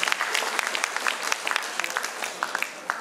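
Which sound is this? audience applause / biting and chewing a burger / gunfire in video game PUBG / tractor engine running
audience applause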